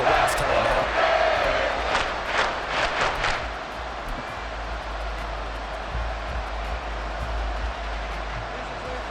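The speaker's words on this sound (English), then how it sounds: "This crowd turning up the decibel level." Stadium crowd roar in the Madden NFL 24 video game, a broad loud wash of cheering that swells early with a few sharp bursts and then settles into a sustained rumble.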